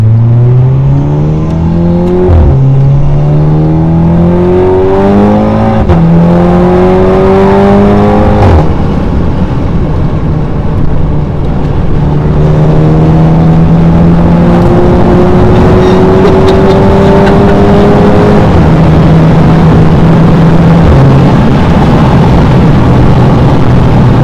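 A diesel Volkswagen Golf accelerates hard through a series of gear changes, its engine note climbing repeatedly and dropping at each shift. It is loud and steady, heard from inside the car.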